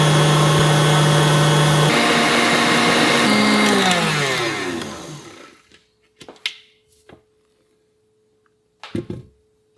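An electric mixer whips vegan chocolate meringue, a loud steady whine that drops in pitch and fades out after about four seconds, followed by a few short clanks and knocks.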